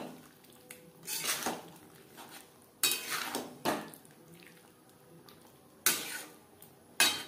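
Boiled potatoes and young jackfruit are turned through spices in a pan. A spoon scrapes and knocks against the metal in a few separate bursts, with quiet pauses in between and no talk.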